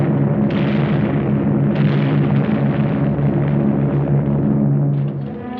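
Wartime aerial bombing and strafing by Allied British and American aircraft: a dense, continuous barrage of rumbling explosions and bursts, loud and unbroken, fading slightly at the end.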